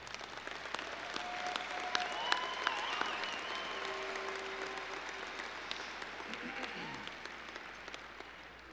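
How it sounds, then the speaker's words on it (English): Sustained applause from a crowd at a hockey jersey retirement ceremony, steady dense clapping throughout with a few brief tonal sounds and faint voices mixed in. "A big round of applause for the fans for your support over the years"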